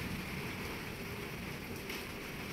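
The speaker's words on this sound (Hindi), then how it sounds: "बारिश बहुत सुबह से तेज़ हो रही है" Steady, heavy rain pours down continuously on a mud house in a village, a dense hiss of drops on surfaces with no break, heard from fairly close by.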